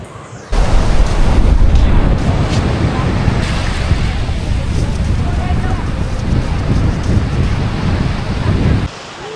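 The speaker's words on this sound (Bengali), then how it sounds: "সমুদ্রের অস্থির গর্জন, অনেক গর্জন দিচ্ছে সমুদ্র, আর ঠান্ডা বাতাস শীতল করে দিচ্ছে" Loud roaring sea waves crash at Cox's Bazar beach with strong wind buffeting the microphone, a dense continuous roar that starts abruptly and cuts off near the end.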